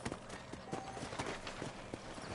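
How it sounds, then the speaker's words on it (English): Horse hooves clip-clop in the Red Dead Redemption video game, a steady, rhythmic run of quiet hoofbeats on hard ground. "What is my new horse doing?"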